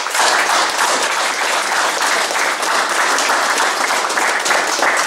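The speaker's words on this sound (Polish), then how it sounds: "Należą się mu, proszę Państwa, duże brawa." A crowd of fans at a KSM Krosno club meeting applauds continuously and loudly, a dense wash of clapping that holds steady throughout.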